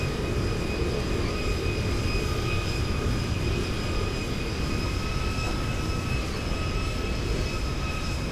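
A Boeing 737-800 lands on a runway in the X-Plane 11 flight simulator. A constant jet-engine roar carries steady high whining tones and stays at an even, moderate level throughout, with nobody speaking.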